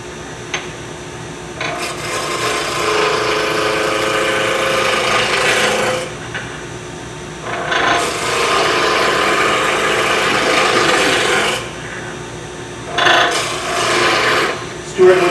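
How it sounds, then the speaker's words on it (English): A regular bowl gouge cuts wood on a lathe, making a continuous loud, close rasping scrape in long passes broken by brief pauses. "Oh, it's a gouge. Just regular bolt gouge. Regular bowl gouge."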